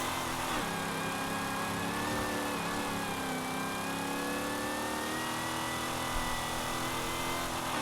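A Dodge Coronet Super Bee in Forza Horizon 5 roars with a loud, sustained engine rev whose pitch climbs and holds steadily, with no voices over it.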